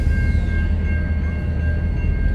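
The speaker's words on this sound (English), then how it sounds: "Train's coming." A train rumbles past close by in downtown Dartmouth, a loud continuous roar of rail cars with a steady high whine over it and no talking.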